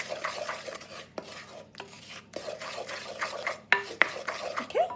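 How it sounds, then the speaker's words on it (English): A utensil stirs an egg mixture into oat and fruit breakfast cookie batter in a mixing bowl, giving a continuous close scraping and swishing with occasional clinks against the bowl. "add that eggy mixture to your mixing bowl. Scrape it all out of your jug, and then mix those until they are blended in"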